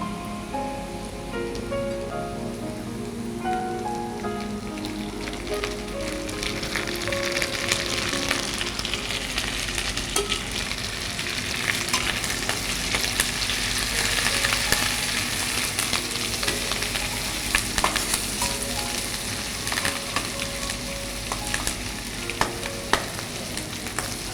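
Curry leaves sizzle and crackle in hot oil for a mutton fry, a steady dense frying hiss with scraping stirring throughout and occasional sharp pops, continuous with no talking.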